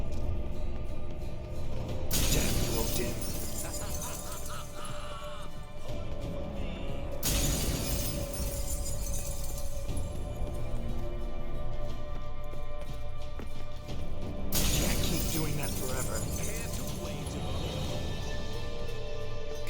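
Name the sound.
mirror shattering in video game The Witcher 3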